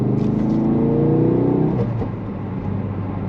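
Ford Focus RS on PS5 tyres driven hard round a roundabout on a Norfolk back road, its engine droning loud and steady under load before easing off, with tyre and road rumble underneath.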